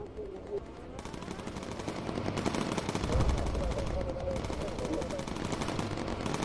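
A quad machine gun turret blazing away in the WWII flight game Bomber Crew, sustained rapid automatic fire with a dense rattling rhythm, loud and continuous under a busy game soundscape.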